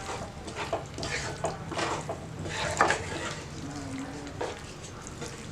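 White sauce pasta is stirred and mixed in a pan, with repeated soft scraping and wet swishing strokes at a close, moderate level. Continuous background noise runs underneath, with no clear talking.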